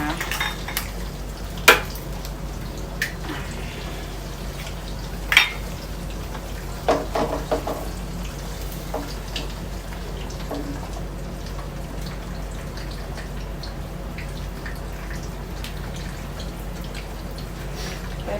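Egg fried rice is stir-fried in a pan over high heat, with sharp clanks of a spatula against the pan at intervals over a quiet sizzle and some faint scraping.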